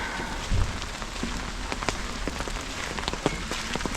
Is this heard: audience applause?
no